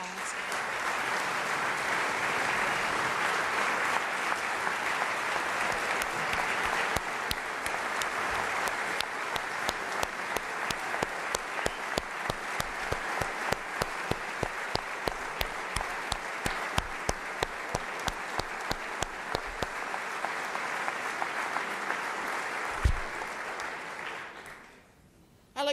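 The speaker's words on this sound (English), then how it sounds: "Let's give them a round of applause." Sustained applause from an audience honoring National Guard members at a state address, dense and steady for most of the stretch, then thinning into scattered claps before fading out near the end.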